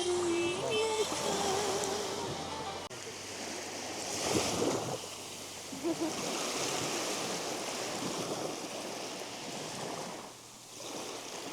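Sea waves wash steadily onto an island shore in a continuous, close rushing roar, swelling into brief louder surges before easing off near the end.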